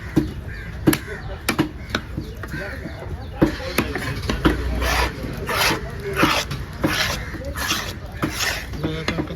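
A knife cuts through a kerai fish in rough, rasping strokes with sharp chops at irregular intervals, under steady background chatter and talking.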